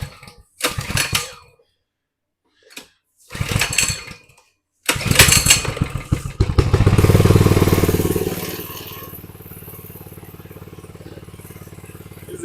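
A minibike that had tipped over and would not start fires up after several brief pull attempts, then roars loudly and holds a high, racing rev before settling into a fast, elevated idle, close by.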